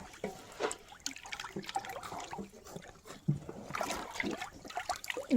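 Cows drinking from a stream in the Philippine countryside: irregular slurps, splashes and trickling water, fairly faint and close.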